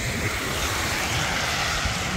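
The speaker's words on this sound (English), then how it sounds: "Fucking plane, man, he came from over there" An airplane passes overhead outdoors after rain, giving a steady broadband roar that stays loud and continuous throughout.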